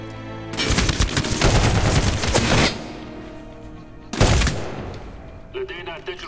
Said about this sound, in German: warum schießt du immer noch?